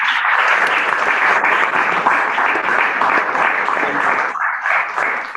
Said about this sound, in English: Can we have a round of applause for Mr.